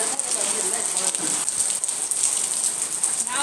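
Morning rain falls steadily and close, a dense even patter on surfaces that holds at constant loudness throughout, with faint voices in the background.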